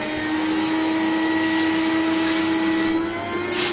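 A 1949 Electrix paint sprayer blowing air, a steady whirring motor hum with a rushing airflow that holds constant throughout, rising slightly at the end.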